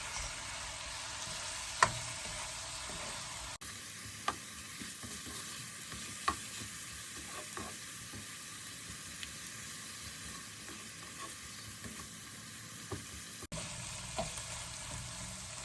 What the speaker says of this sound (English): We fry this until the rest of the onions is nice and soft.